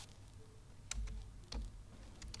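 Typing on a computer keyboard while entering text in Word 2016: a few sparse, crisp key clicks, with two louder strikes a little over half a second apart.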